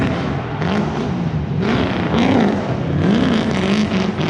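Ford Mustang Fox body drift car at Evergreen Speedway during a Halloween drift contest, its engine revving in wavering, rising-and-falling pulls at close range, loud and steady with no talk over it.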